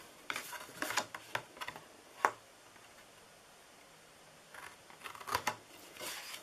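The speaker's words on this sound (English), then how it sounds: "And I'm actually going to cut this down." Card stock is trimmed down with scissors for a slimline card: a few quick, close snipping and rustling bursts separated by a quiet pause, with no talking.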